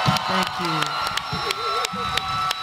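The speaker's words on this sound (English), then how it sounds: "Let's give a big round of applause to these guys." Convention crowd at a San Diego Comic-Con Teenage Mutant Ninja Turtles panel cheering and applauding, a steady dense roar with shouts rising above it and voices talking through it.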